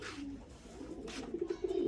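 Pigeons coo steadily from their rooftop loft, a low rolling burble that swells and fades in overlapping calls, fairly close, with the birds settled after feeding on their first day out.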